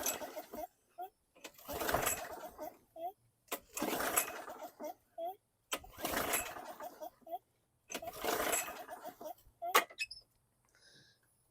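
A 2010 Yard-Man lawn mower with a varnished carburetor being pull-started, with five loud recoil pulls in a slow steady rhythm, each a short rasping whir, and the engine failing to catch.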